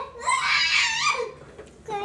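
A child lets out a loud, high-pitched scream lasting about a second, then a brief quieter vocal sound, close to the listener in an indoor setting.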